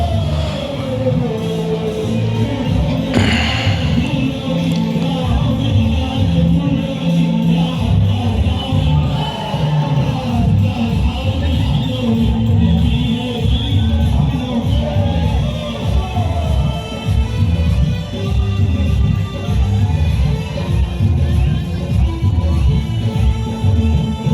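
A large crowd gathered and dancing at the border retreat ceremony at Suchetgarh border, R.S. Pura, Jammu, makes a loud, continuous roar of voices, cheers and shouts over pounding music, sustained throughout.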